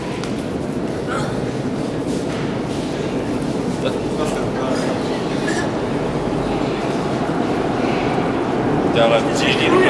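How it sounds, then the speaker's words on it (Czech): Metro train arriving at a station, a continuous rumbling rail roar with clanks and brief squeals building slightly toward the end, loud and close, with people talking over it. "Metro."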